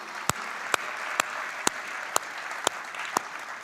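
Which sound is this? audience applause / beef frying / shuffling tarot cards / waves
audience applause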